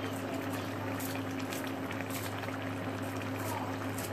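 An eggplant stew in thick coconut milk simmers in a pot as green onion goes in, giving a steady close bubbling hiss with a low constant hum underneath and no voices.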